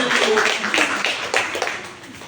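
Hands clapping together in a classroom, a burst of several quick rhythmic claps from a group of children, fairly loud and close.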